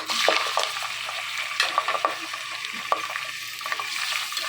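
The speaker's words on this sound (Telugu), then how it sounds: "ఆయిల్ బాగా వేడెక్కిన తర్వాత కొన్ని పచ్చిమిర్చి కొద్ది కరివేపాకు అలాగే ఆనియన్స్" Green chilies, curry leaves and onions crackle and sizzle in hot oil while a utensil taps and scrapes the metal pan at irregular moments, close and fairly loud with no voices.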